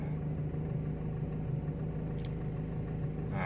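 A Timor car engine idles at a stable RPM with a low, steady rumble and a smooth, even hum. The sound is close and constant, and a faint brief tick is heard near the end.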